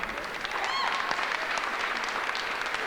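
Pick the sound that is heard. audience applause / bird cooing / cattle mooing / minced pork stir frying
audience applause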